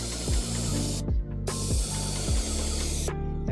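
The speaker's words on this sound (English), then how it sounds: "sprayer gun a little bit before you start spraying" A paint sprayer gun applying stain to a deck hisses loudly in long steady bursts, each cut off by brief pauses as the trigger is released, with a mechanical pulsing underneath.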